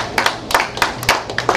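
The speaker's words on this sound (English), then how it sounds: "You get yourself a round of applause." Scattered clapping from a small concert audience on a Sunday night, a handful of sharp irregular claps close by, brief and thinning out.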